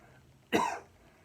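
A single forceful demonstration cough with a sharp, breathy exhale, close and clear, standing alone against a quiet background.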